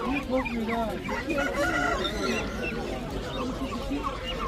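A rooster at a bustling Adana bird market crows among clucking chickens and other fowl, with repeated loud calls overlapping amid crowd noise and voices.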